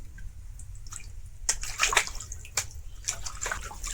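Pumpkin leaves are rinsed by hand in water to wash away sand: quiet sloshing and a few brief splashes over a low background hum, with no talk.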